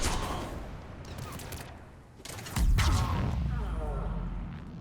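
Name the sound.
gunfire in the Mass Effect 3 video game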